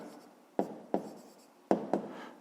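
Four crisp pen marks scratch onto paper in two quick pairs, near and soft, while numbers for a maths exercise are written down without speech.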